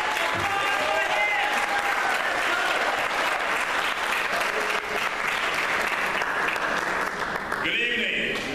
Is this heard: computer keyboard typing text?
no